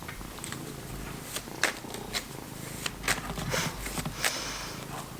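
A pet cat purring close by, a low steady rumble with occasional soft rustles and bumps, fairly quiet and with no speech.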